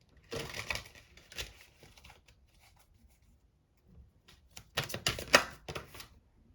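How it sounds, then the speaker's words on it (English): Tarot cards are shuffled in two bursts of rapid riffling and flicking, close by, separated by a quiet pause, with no speech. "one more shuffle"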